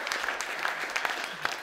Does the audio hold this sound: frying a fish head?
no